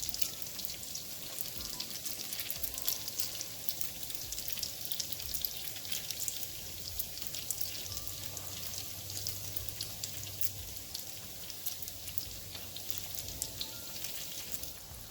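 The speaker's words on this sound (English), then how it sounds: "Gently fry your donuts in the oil and move them around so they can fry evenly." Donuts fry in hot oil with a steady, soft crackle and hiss that continues evenly throughout. A faint low hum sits underneath, and no one speaks.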